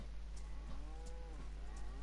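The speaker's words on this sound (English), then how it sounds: "These cows can't run very fast or very far." A cow in the video game DayZ lets out drawn-out moos, one low call after another with a faint steady hum underneath, fairly quiet and with no talk.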